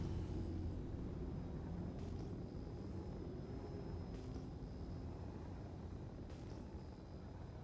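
A spaceship taxis in the Star Citizen video game, a faint, steady low engine rumble with a thin high whine running evenly throughout.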